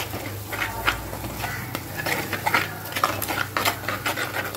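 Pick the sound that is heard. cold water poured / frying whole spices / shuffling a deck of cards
frying whole spices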